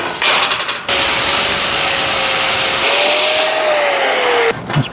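A power tool, likely a grinder or saw, cuts about a quarter inch of excess steel off a freshly tacked, welded gate, running loud and steady for nearly four seconds with a rising whine, bracketed by brief quieter moments at start and end.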